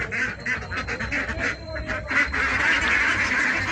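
Fairly large farm ducks quack repeatedly in hot weather, loud and close, the calls overlapping in a busy, uneven chorus over a steady background hum.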